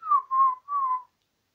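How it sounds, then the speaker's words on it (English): Three short whistled notes from the game Pokémon Diamond in quick succession, clear and close, gliding slightly downward, then silence. "Why not amuse yourself with a solo whistling performance?"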